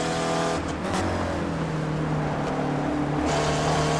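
Ford race car engine at speed in an iSpec Racer Ford Challenge race, a steady loud drone that dips briefly as the driver lifts slightly off the throttle, then carries on.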